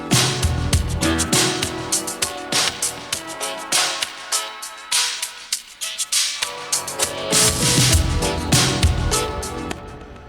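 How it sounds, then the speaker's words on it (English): Full electronic music plays loudly while a high-pass filter sweep thins it, the bass dropping away in the middle and gradually returning as the sound refills. "grab a low cutoff filter or a high pass filter and then sweep that up"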